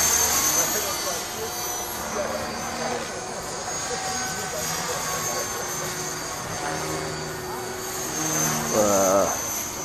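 A T-Rex 500 RC helicopter flies in strong wind, its rotor whine and buzz steady at a middle distance under wind noise, with people talking throughout.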